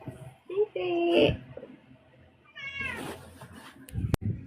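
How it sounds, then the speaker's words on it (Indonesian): A male cat meows a few times, close and clear, with short drawn-out cries between bursts of nearby voices, including a child's. "Kucing cowok ya?"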